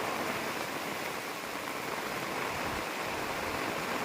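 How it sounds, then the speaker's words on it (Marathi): Heavy monsoon rain pours steadily in a dense, continuous hiss that stays even and loud throughout, with no voices. "बघ एवढा मुसळधार पाऊस आहे"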